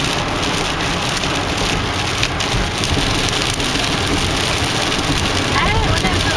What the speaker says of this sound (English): On a rainy, stormy day.